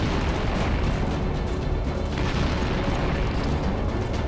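Continuous dense rumbling and crackling of war destruction, with missile and rocket blasts during the Russia–Ukraine conflict, loud and sustained with no clear pauses.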